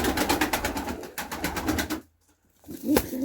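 A lone pigeon chick in a coop during a bitter -14 cold spell is heard alongside other pigeons, with rapid pulsing bird sounds up close that stop for a moment and then resume.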